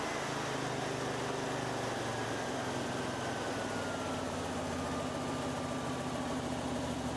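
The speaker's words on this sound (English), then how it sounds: "Once we've throttled that down far enough at a low idle" Hydraulic power pack engine for a liner system idling at low throttle, a steady low rumbling drone with a faint rising-falling whine, continuous and close with no speech.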